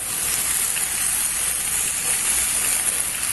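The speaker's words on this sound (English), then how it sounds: "kind of toss it into here, and we're just letting the butter kind of melt around" Butter sizzles and hisses steadily as it melts in a pan over a grill for peach cobbler, a constant bright frying crackle with no talk.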